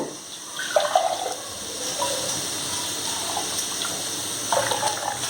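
Water poured in a steady gushing stream into blended buttermilk in a vessel for spiced masala buttermilk, close and fairly soft, with a couple of louder splashy surges.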